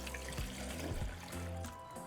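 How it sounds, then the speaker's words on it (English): Water poured from a tap over dried ancho and árbol chile pods in a saucepan, a brief splashing trickle with a few soft thuds, quiet and close. "We're going to cover them with water"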